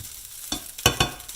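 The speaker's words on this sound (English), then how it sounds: "I'm gonna get these potato patties frying up in a little bit of butter first" Potato patties frying in a little butter in a pan, a soft sizzle broken by a few sharp scraping or stirring clatters, fairly close and alone.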